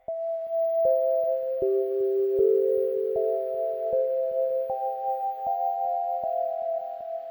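A clean synthesized bell plays a stepping melodic pattern in a surf gang style beat, each note struck crisply and sustaining into the next, sitting alone with no drums or voices.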